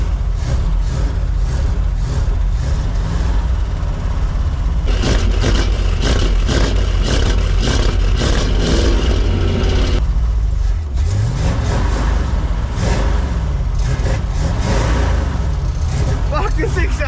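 A 1978 Ford F-350 truck engine revving loud and close, a steady heavy roar that surges at intervals, rising and settling as the throttle is worked.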